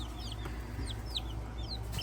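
Chicks in a brooder give soft, high peeping chirps, scattered and quick, over a low steady background hum, fairly close and moderately quiet without any talking.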